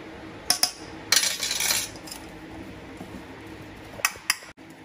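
A spoon clinks against a bowl while cutlet mixture made with bread crumbs and salt is stirred, giving a few sharp metallic taps and a brief scraping burst, close and alone.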